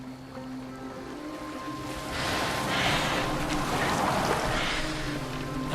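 Boat gliding over water in the game Assassin's Creed Valhalla, a steady wash of water and wind that swells louder midway and holds on with low tonal game music underneath.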